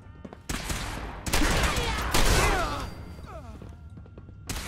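Enemies fire through the floor in Fallout 4, with loud bursts of gunfire and crashing impacts packed into two dense volleys, followed by fading debris and whooshing tails.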